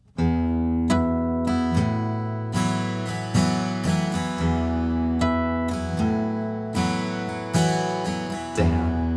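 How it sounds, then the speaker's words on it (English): An acoustic guitar plays an easy strummed chord riff, a steady down-up pattern of ringing chords repeating in even bars, close and clear with no voice. "And in total, the very easy riff will sound like this."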